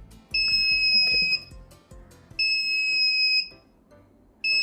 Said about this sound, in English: because the temperature is higher than 43 Celsius, so it keeps the alarm on